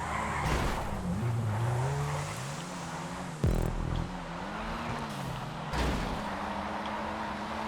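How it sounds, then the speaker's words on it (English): A drift car in GTA 5 random racing, its engine droning under long, sliding tire squeals that rise and fall, loud and close. "Oh, it's a drift car, isn't it?"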